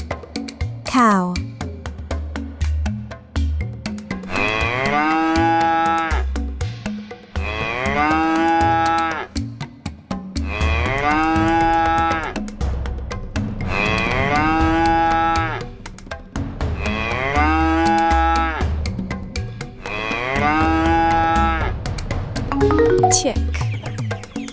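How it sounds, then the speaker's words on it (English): A cow moos loudly and close by, five long drawn-out lowing calls in a steady rhythm with short pauses between them. "cow"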